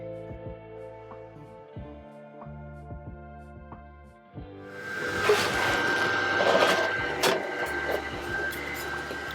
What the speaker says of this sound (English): So now let's go ahead and cut this out on the laser and test it all out.